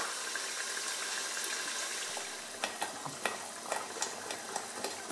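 Blended onion sizzling and frying down in a pot for Ghanaian waakye stew, a steady close hiss with sharper crackles and stirring clicks growing more frequent toward the end; no voices.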